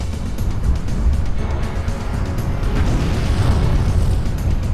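Volcanic eruption of the Mount Baekdu crater: a continuous, loud, deep roaring rumble with dense low-end churning and no breaks, sustained throughout.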